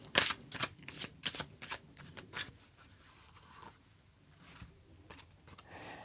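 Tarot cards riffled and handled at close range, a run of sharp papery flicks and slaps that fade into softer shuffling, with no voices.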